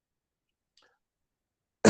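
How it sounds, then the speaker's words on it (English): A single short, sharp cough from a man with a lingering cough, heard near and alone at the very end after near silence. "I've got this little bit of a cough that never seems to quite go away."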